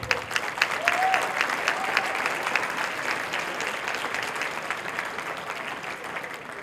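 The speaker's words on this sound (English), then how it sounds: "Please give them a round of applause." Audience at a school sports banquet breaks into warm applause honoring a football team, a steady wash of clapping from a sizable indoor crowd that holds for several seconds and slowly tapers.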